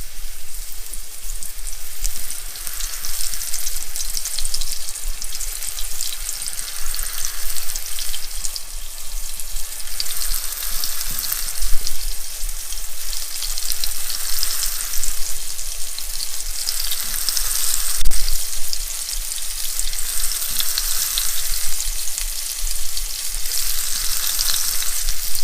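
Thin slices of beef fry in about two tablespoons of oil in a pan, giving a steady, loud, close sizzle with gentle swells as pieces are stirred and added, no voices over it.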